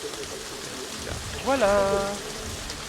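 Steady rain falling in Jurassic World Evolution, an even broadband patter throughout, with someone briefly speaking over it midway.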